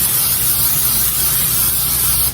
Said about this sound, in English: I'm going to spray it with non-stick spray on the bottom.